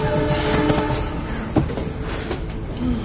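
A moving train gives a loud, continuous rumble with rattling carriage noise and a few sharp metallic clanks, steady throughout.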